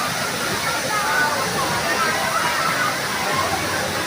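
Water tumbling from a mountain spring at Bato Spring Resort makes a steady, dense rushing roar that holds even and unbroken from start to finish.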